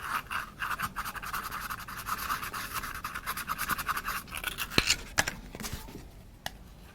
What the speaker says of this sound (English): So I'm just going to take my sandpaper.